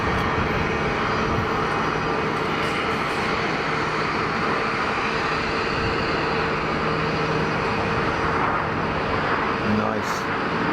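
EasyJet airliner touching down at Geneva Airport, a steady, moderately distant broadband jet rumble with low hum, continuous throughout, with some voices faintly in the background.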